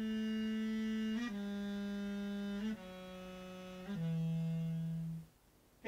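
A mey, the Turkish double-reed wooden pipe, plays a slow descending line of sustained notes, each held about a second before stepping down, reedy and close, ending in a brief silence.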